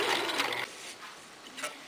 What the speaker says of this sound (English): go ahead and stitch right around back to where the seam was